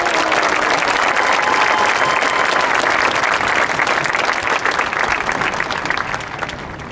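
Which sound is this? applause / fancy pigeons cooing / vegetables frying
applause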